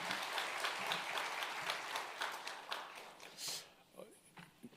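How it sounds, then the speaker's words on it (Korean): Congregation applauding during a church revival service, a dense sustained wash of clapping that thins and fades out near the end, with some voices mixed in. "우리 하나님께 영광의 박수를 드리겠습니다"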